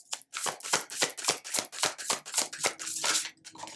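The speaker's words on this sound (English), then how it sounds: "Let's go ahead and pull some more cards." Tarot cards are shuffled and pulled from the deck close to the microphone, giving a steady run of crisp, papery riffling strokes about twice a second, with no talking.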